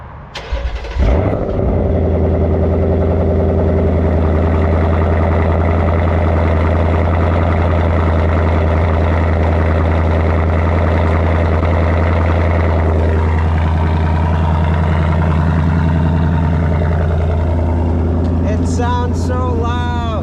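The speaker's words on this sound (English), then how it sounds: "let me turn the car on and you can hear the exhaust" A 2024 Ford Mustang GT starts up with a sharp burst, then its loud exhaust settles into a deep, steady idle rumble close by for a long stretch, with a brief clicking near the end.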